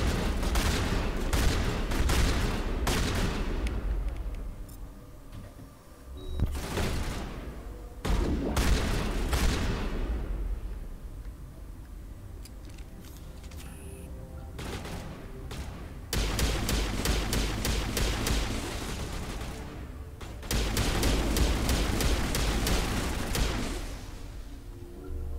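Sustained video-game gunfire from a firefight in Mass Effect Legendary Edition: dense bursts of rapid shots and booming impacts come in waves, loud and close, with short lulls between barrages and no talk.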